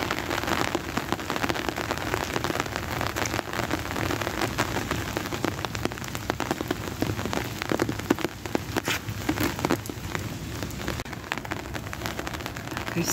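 Rain pours down around flowering lilacs in spring, an unbroken hiss and patter of drops hitting surfaces, fairly close and steady for the whole stretch, with no speech.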